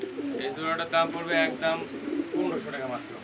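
A pair of New Odal pigeons offered for sale coo in low, repeated throaty calls close by, mixed with people talking nearby.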